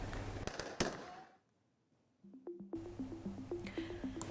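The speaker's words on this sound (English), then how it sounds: "New Delhi wakes up to toxic smog after Diwali revelers defied a firecracker ban" Diwali firecrackers burst in New Delhi, a few sharp loud cracks up front, then a brief lull before a rapid run of popping bangs with tonal whistling or crackling layered over a steady rumble.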